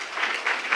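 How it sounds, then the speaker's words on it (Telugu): Applause from a church congregation after a musical performance, a steady broadband patter of many hands filling the short moment with slight swells, moderately loud and without talk. "నేను చప్పట్లు కొట్టమను కానీ నీకు కొట్టేస్తున్నారు"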